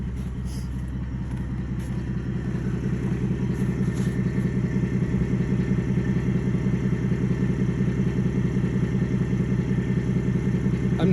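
A diesel engine idles after a fuel system cleaning, a loud steady low rumble with even rapid clatter running throughout without pause, close by and alone.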